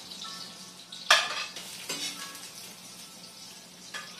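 Carrots hit a hot pan of vegetable stir-fry with a sharp burst of sizzling, then settle into a steady frying hiss with a few light scrapes of stirring.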